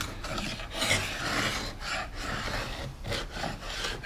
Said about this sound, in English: Alright, we can sand that,